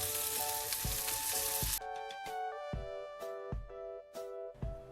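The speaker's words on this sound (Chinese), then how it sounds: "小火将两面煎至金黄色，咱们就可以出锅了" Steady sizzling of eggplant rings pan-frying in oil over low heat, loud and close, with a light tune playing alongside and no talking.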